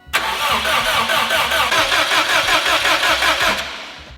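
A fully built Subaru STI engine cranks steadily without firing while oil pressure builds, a loud, even, rapid starter-motor chug lasting several seconds before stopping.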